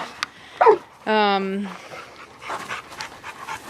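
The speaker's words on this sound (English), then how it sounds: "Both her and Zoe like to get in Preacher's face, and bark and mess with him" Dogs bark and yip at each other in play, a couple of short sharp barks followed by a sustained whining howl, with speech and rustling moving around them afterward.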